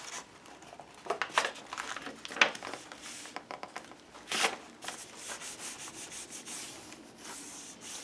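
Glued paper is rubbed down by hand onto an altered book cover, giving soft, close, irregular rubbing and scuffing strokes with a few sharper swipes and no voices.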